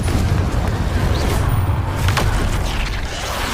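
A Confringo fire spell blasting in Hogwarts Legacy, heard as a dense, continuous low rumble of booms and crashing impacts that stays loud for the whole stretch, with busy battle effects layered on top.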